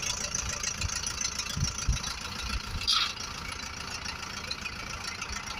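A LOVOL 504 tractor engine running at a steady idle, a constant low rumble with a brief rise in loudness near the middle.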